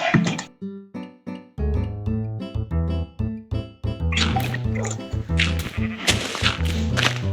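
Repeated sheep bleats in Minecraft, mixed with plinking, droplet-like tones and a bright melodic backing that grows denser and louder toward the end.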